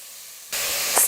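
Grated carrot dropped into a hot pan for a carrot sweet, bursting into a sudden loud sizzling hiss after a quiet moment, with a couple of short clinks at the end.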